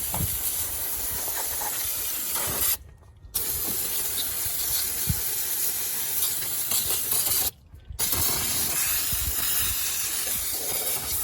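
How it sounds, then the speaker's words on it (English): Aerosol brake cleaner sprayed onto engine parts during Honda power steering pump work gives a loud, steady, close hiss lasting several seconds, broken by two brief pauses, with no talking. "I got a little brake cleaner left over from the head job I did the other day"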